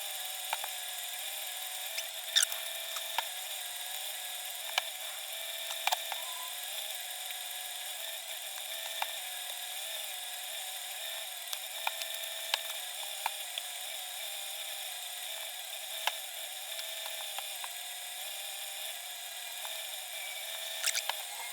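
Steady high whirring hiss of sanding an epoxy resin bowl, continuous and close, with small scratchy ticks scattered over the grinding drone.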